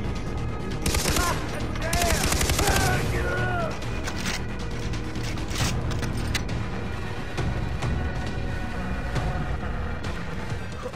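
Rapid gunfire bursts from the video game Far Cry 3, dense shots clustered early then thinning out, mixed with game effects and voices talking over the action.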